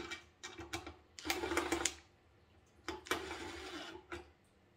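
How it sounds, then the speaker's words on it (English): A screwdriver tightens small screws on a bird feeder: close, quiet bursts of scraping and ratcheting clicks, grouped in short spells with brief pauses between. "So I've just got a screwdriver here."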